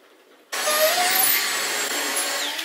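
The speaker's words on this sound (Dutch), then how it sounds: "We hebben even stofzuigen." A household vacuum cleaner switches on abruptly after a brief quiet moment and then runs loud and steady with a broad whooshing roar, close by, with no talking over it.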